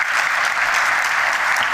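An audience at a business event applauds a speaker, a dense, loud and even round of clapping filling the whole moment with no voices over it.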